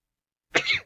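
A single short sneeze bursts out after silence, close and moderately loud, ending quickly.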